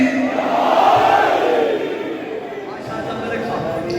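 A congregation in an imam bargah shouting a religious slogan in unison, a loud massed roar of voices that swells and then settles into a sustained crowd din.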